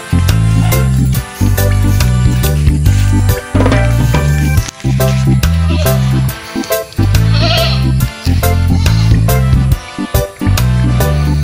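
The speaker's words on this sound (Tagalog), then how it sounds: "Malayo pa lang po tayo ay tinatawag na po tayo ng kambing natin." A hungry male Boer goat bleats, calling out in a few wavering cries set against loud rhythmic music with a pulsing beat that dominates throughout.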